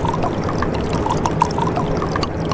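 Coolant pours into a seized V12 marine engine, a steady loud rushing, trickling flow that continues evenly throughout, close by with no voices.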